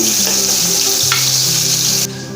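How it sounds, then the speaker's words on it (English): A steady, loud sizzle of meatballs frying in hot oil, crackling continuously with a few soft clinks, close by and without speech. "meatballs are frying away in the oil"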